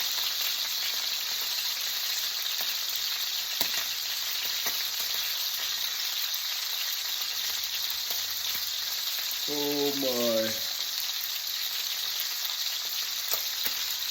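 Steady, loud sizzling and crackling of brined steaks frying in extra hot oil in a pan fills the whole clip, with a brief exclamation from a voice partway through.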